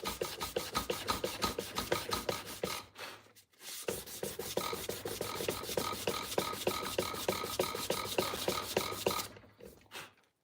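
A file on a whetstone shaping a custom knife blade gives rapid, rhythmic rasping strokes, loud and close, with two brief pauses.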